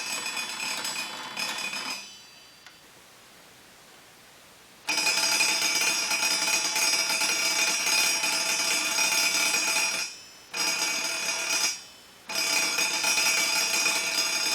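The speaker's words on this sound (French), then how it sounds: "Et voilà la petite sonnette." A small homemade DIY electric bell rings in bursts of bright metallic buzzing, with an electromagnet and hacksaw-blade striker, stopping for a long pause and two short breaks between rings.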